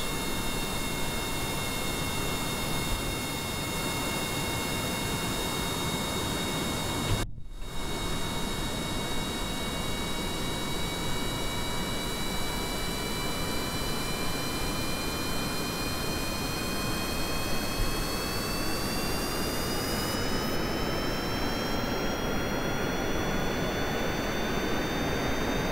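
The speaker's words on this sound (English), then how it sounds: "We'll start up the jet engines." Jet engines start up in Kerbal Space Program, a steady, loud roaring rush with rising high whines that persists throughout, broken only by a brief dropout.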